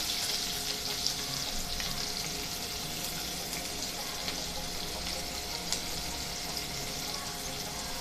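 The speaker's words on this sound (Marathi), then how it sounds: "आता आपण हा छान सोनेरी रंग येईपर्यंत परतून घेऊया" Sliced onion sautés in oil with mustard seeds and cumin for a stir-fried broccoli dish. A steady, moderately loud sizzle holds throughout, with faint occasional stirring clicks.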